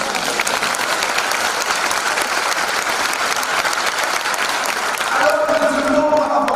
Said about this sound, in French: on va applaudir le Seigneur